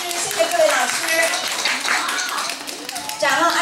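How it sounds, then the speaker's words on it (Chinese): At a school event, an audience claps for the teachers, scattered hand claps mixing with children's chatter and voices talking over them, the clapping uneven and moderately loud. "我们为老师们鼓掌"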